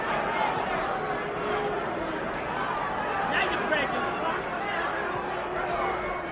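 Crowd in a boxing arena during a 1987 heavyweight fight murmurs and chatters in a continuous, restless roar, with scattered shouts rising above the wash.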